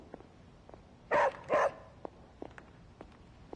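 A pet dog named Charlie gives two loud, close barks in quick succession, with quiet soft thumps and small noises before and after.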